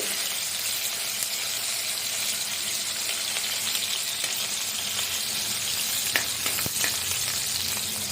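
Green chillies sizzle in well-heated oil in a home kitchen pan, giving a steady, loud, crackling fry throughout with a few brief clinks partway through.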